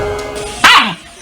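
A pet dog gives a single loud bark with a falling, whimpering tail, close by, after a brief stretch of quieter background murmur.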